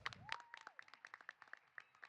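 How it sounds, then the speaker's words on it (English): Scattered audience clapping at a youth behavioral health talk, a dozen or so distinct claps spread across a couple of seconds, faint and thin rather than a full ovation. "Clap it up for that."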